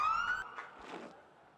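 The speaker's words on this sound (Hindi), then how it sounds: "ये जो सायरन है ये नो बॉल का है" A short rising electronic siren wail signalling a no-ball at a cricket match, loud at first then cut off, followed by a brief fading tone.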